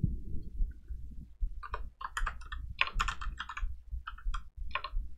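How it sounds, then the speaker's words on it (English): Rapid typing on a computer keyboard, with quick bursts of crisp clicks and short pauses over a low background hum. The keystrokes are close and moderately quiet, and no one speaks. "Man, I'm so good I am at typing."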